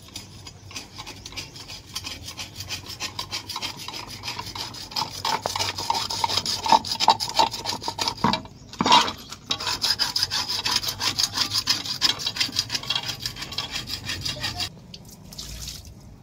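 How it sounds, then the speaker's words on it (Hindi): A metal scraper rasps steadily across an old tawa griddle, a continuous close gritty scraping with rhythmic strokes that pause briefly near the middle and stop near the end. "मैं आख्या इनू खुरच के ना ते दोबारा सही तरह धो लवां"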